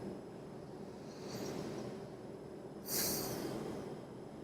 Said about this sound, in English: So if you want to take a deep breath or two, you can.